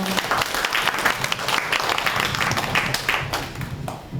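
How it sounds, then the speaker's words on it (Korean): Audience applause at an orientation session for a Catholic University continuing-education history program, brisk and loud clapping from a room of people, with a few sharper individual claps standing out throughout. "큰 박수로 좀맞이세요"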